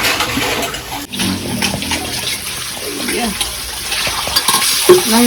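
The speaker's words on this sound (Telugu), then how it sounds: "నీళ్ళ సౌండే వస్తుంది." Water hitting a hot pan while cooking during a festival meal at home, a continuous sizzling and bubbling hiss with clattering stirring, heard close over background voices.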